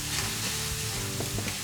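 Button mushrooms and wild mushrooms sauté in a pan for a vegan bourguignon, giving a steady close sizzle with soft stirring and scraping running throughout, no voices.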